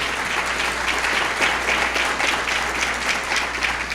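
Audience at a school district Teacher of the Year luncheon clapping in a loud, sustained round of applause, dense and steady throughout with a low room hum underneath.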